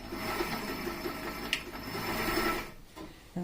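A HandiQuilter Moxie XL sewing machine runs a straight stitch at steady speed, a faint, continuous mechanical whir that stops near the end.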